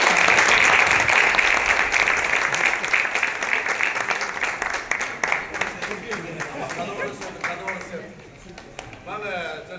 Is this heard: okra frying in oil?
no